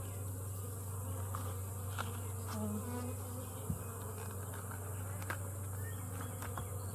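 Honey bees buzz around an open hive, a soft continuous drone with a steady low hum and scattered faint ticks and taps, quiet and close without speech.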